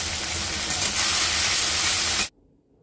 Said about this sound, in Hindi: मैं यहाँ पर 5 मिनट तक इसे भून रही हूँ।